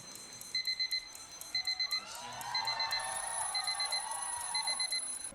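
An electronic alarm clock beeps in quick repeated bursts of four to open a live performance of a song, with a rising, sweeping tone and faint crowd noise swelling underneath.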